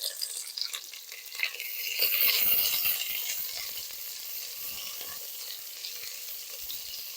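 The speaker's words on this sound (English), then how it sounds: "Oh, I love that sizzling sound" Onions sizzle in olive oil in a pan, a steady bright hiss that swells slightly after a couple of seconds and then holds evenly, close and unbroken by speech.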